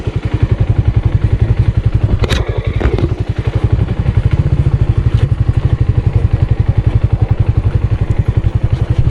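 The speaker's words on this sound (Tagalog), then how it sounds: "lakas ng makina niya mga tol." Suzuki Raider 150 FI motorcycle engine running steadily and close, with a fast, even pulsing thrum and a brief clatter partway through, and no voices.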